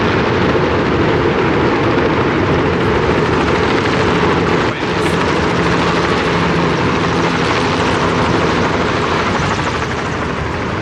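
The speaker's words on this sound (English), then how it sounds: "Choppers." Helicopters passing overhead at Brooklyn Bridge Park, a loud, steady rotor thrum and whine that fills the scene for about ten seconds without pause.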